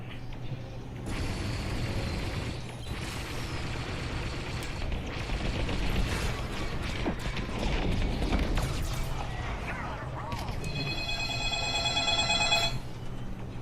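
A telephone rings during a Star Wars Squadrons live stream, a repeated electronic ringing tone that arrives near the end over a loud bed of game engine rumble, explosions and mechanical noise.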